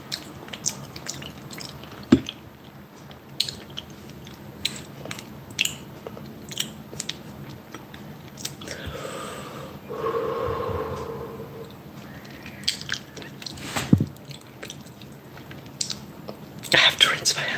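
Cheesy lasagna and mango being eaten up close, with soft wet bites and chewing sounds scattered through the clip over a low background, plus a slightly louder stretch midway and faint whispering.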